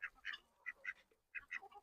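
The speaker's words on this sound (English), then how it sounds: "ducks are standing right in front of you doing everything that they can to try to knock over my camera right now" Several ducks quack close by in short, bright bursts, a couple of quick calls, a brief pause, then another cluster of quacks, fairly faint overall.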